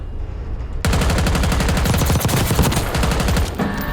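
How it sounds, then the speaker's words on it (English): A gun fires in rapid full-auto bursts in Call of Duty Warzone, a loud, steady rattle of shots that starts abruptly after a quiet moment and runs nearly to the end. "and then I'm gonna start shooting"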